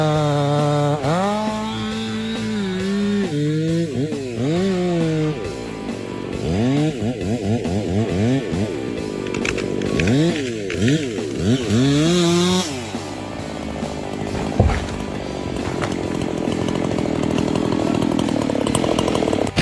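A giant chainsaw cuts through wood while felling a large tree in a forest, its engine revving and bogging in repeated rising and falling whines, loud and continuous throughout.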